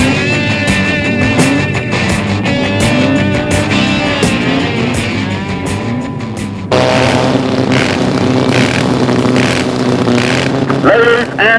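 A drag racing dragster engine on the start line at Santa Pod Raceway in 1973, a loud, sustained, harmonically rich roar that abruptly changes character partway through and keeps blaring to the end.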